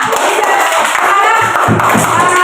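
Classroom applause from students, dense steady clapping with crowd noise and a few thumps, loud and continuous throughout.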